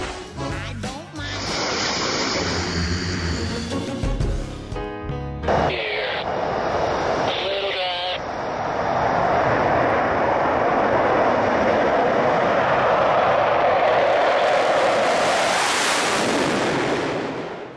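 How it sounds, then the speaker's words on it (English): Navy Blue Angels jets roar through a practice aerial demonstration routine, a broad loud rushing sound that builds and sustains toward the end, mixed with earlier shifting noise. "you get to watch and follow along as the Navy's Blue Angels practice their aerial demonstration routine"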